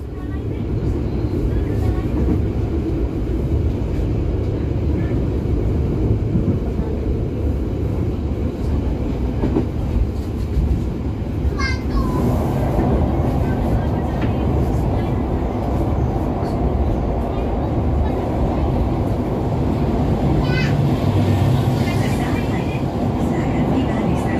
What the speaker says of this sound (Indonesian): perjalanan kereta api Pasundan yang saya naiki